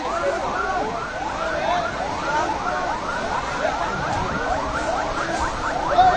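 A fire engine siren wails, rising and falling in rapid, repeated sweeps, steady and fairly loud over a noisy background during a market fire.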